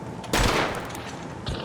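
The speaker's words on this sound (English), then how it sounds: "right here, I've seen enemy and I'm firing at them" Gunfire in the video game Hunt: Showdown, a loud close shot with a long ringing tail followed by a second, softer shot about a second later.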